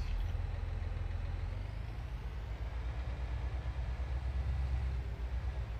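A tractor engine in Farming Simulator 19 runs with a steady, loud low rumble and idling drone throughout, during a snow-hauling mission with a trailer in the Seasons mod.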